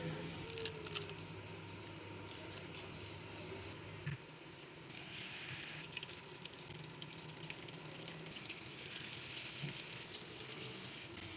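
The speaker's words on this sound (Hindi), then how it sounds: "अब इसमें इतना हमने ऑयल ऐड करना है कि हमारा जो ये चपली कबाब है ये डीप फ्राई हो जाए" Chapli kababs deep frying in oil in a frying pan, a faint continuous sizzle and crackle with scattered pops running steadily throughout, no talk.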